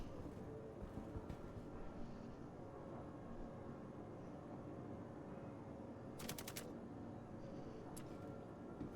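Bursts of gunfire in the Star Citizen bunker mission, two short sharp volleys cutting through a dense, steady game soundscape of rumbling ambience.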